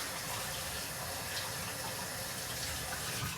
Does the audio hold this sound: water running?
yes